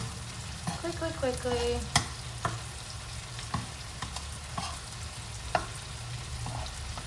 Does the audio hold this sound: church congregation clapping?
no